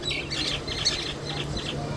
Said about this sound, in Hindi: यहाँ ये पक्षी दाने के लिए लड़ रहे थे